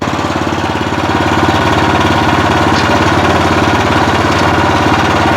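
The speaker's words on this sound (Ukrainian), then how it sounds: "Відразу, бачите, як швидко їде мотоблок." A Weima walk-behind tractor (motoblock) engine runs steadily while driving, a loud close rhythmic chugging that holds at an even pace throughout, with no talk over it.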